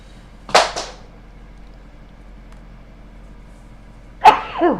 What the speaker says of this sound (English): I'm sneezing into my sweater